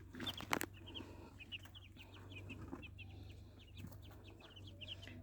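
Thirty-day-old white chickens cluck softly and repeatedly in their pen, a faint chorus of short chirpy calls over low background hum, with a brief flurry of wing flapping near the start.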